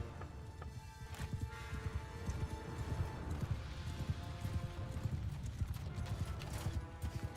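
Horses gallop in a Mount and Blade battle, a quiet continuous patter of hooves in the background with no voices over it.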